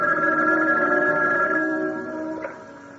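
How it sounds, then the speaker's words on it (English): Telephone ringing in an old-time radio drama, a steady electric bell ring that holds for about two seconds and then fades, with no voices. "when the phone rang."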